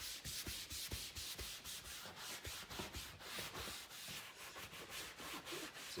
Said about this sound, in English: and just give it a really good scrub